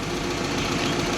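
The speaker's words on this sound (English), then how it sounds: "we'll let this idle for a while, warm up really well" Engine of an off-road vehicle with a repaired rear ARB locker idles steadily while warming up, a continuous low rumble with faint knocking vibration, close and unbroken.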